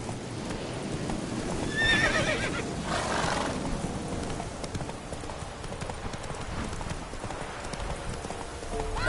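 Roach, a horse in the video game Witcher 3, gallops with steady clip-clopping hooves and lets out a loud whinny early on, the hoofbeats continuing close and clear afterward.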